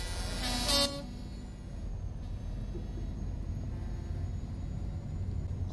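A truck horn in Euro Truck Simulator 2 gives a short, loud blast near the start. A steady low engine rumble continues underneath for the rest of the clip.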